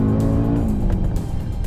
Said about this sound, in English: Not too many compact SUVs sound like this.